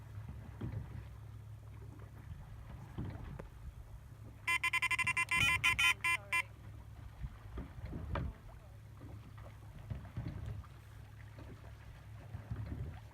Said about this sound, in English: Now that boat just went past my swim